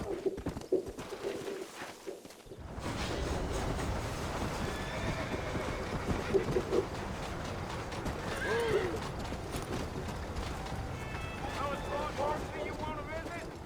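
Horse whinnies and hooves clip-clop in the Western game Red Dead Redemption, a steady trot under birdsong and cooing doves, with someone talking over the riding and a couple of neighs rising above it.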